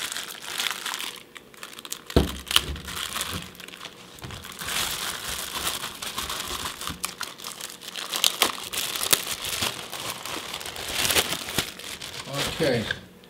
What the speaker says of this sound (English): Let's open it. I'm gonna need my trusty